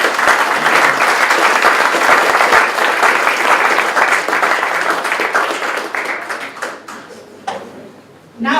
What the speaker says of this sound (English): Can I have a big round of applause from Max?